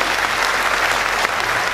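Steady, dense applause from a large audience at a felicitation ceremony for a journalists' building inauguration, continuous and loud throughout with no pauses.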